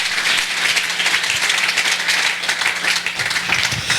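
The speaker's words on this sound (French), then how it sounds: "Est-ce qu'on peut acclamer pour la parole de Dieu?" A church congregation applauding, a dense and steady burst of clapping from many hands lasting about four seconds at an even, fairly loud level with no voices over it.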